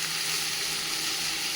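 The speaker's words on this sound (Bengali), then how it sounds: "কাঁকরোল কেটে ভাজা করে নিচ্ছি" Sliced spiny gourd (kakrol) frying in hot oil, an even, close hiss of sizzling that holds steady without pauses or voices.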